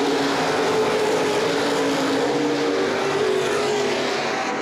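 Open-wheel modified race cars roar around an oval speedway in a feature race, a loud, continuous blend of several engines held at high revs with a faint shifting pitch as the pack circles.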